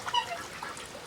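Ducks and swans calling by a zoo pond, a few quick honking and quacking calls close by over faint outdoor background.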